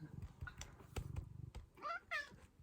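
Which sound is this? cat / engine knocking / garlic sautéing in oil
cat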